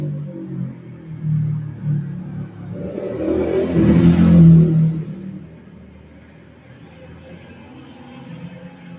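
A motorbike engine swells as it approaches, peaks loudly near the middle, then fades away into low background rumble.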